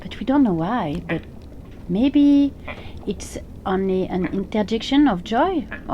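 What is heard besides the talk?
No distinct noise like a dog, phone or traffic.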